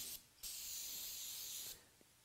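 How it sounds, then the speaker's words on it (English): Brake cleaner sprayed onto a dirt bike's brake reservoir cap: a brief hiss, a pause, then one long, loud, steady aerosol burst of about a second and a half that cuts off abruptly, with a faint tap afterward. "Cleaning off your brake reservoir cap, you can use brake cleaner or contact cleaner."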